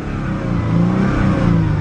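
A 2002 Mercedes SLK 320 with a 3.2-litre V6 revs up close, a loud, rising engine note with a throaty mid-range growl that climbs steadily for about two seconds.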